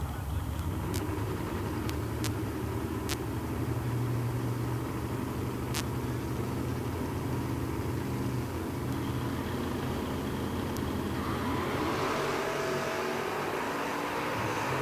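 Drag cars, including a 67 Camaro, at the Quaker City Big Buck Nationals, a continuous heavy engine rumble and roar with faint sharp clicks, a crowd-like wash rising toward the end.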